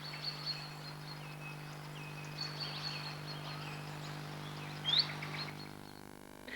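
A British songbird known for dipping its tail sings thin, high chirping phrases, faint and somewhat distant, over a steady low hum, with one brighter note standing out near the end.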